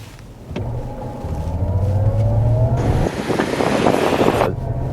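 A Mazda CX-90 PHEV plug-in hybrid SUV accelerates hard from inside the cabin, its rising engine whine dropping at a gear shift partway through before climbing again under loud road and wind roar.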